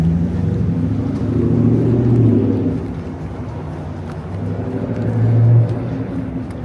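Car passing on a busy Manhattan city street, an engine swelling and fading twice amid steady traffic rumble, heard from the sidewalk at moderate distance with no talk.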